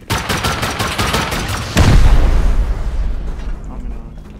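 A rocket launcher fired at a base in the video game Rust, heard as a fast rattle of gunfire followed by a sudden loud blast that rumbles and fades out.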